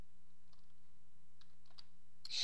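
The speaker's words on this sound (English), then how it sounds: "So let's just go ahead and type in" Text being typed on a computer keyboard in a quiet room, a few sparse, soft key clicks spread across a steady hum, followed by a brighter burst at the end.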